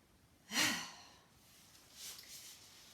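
A single deep breath is drawn and released during a stretching routine, one soft airy sigh near the start, followed by quieter breathing noise.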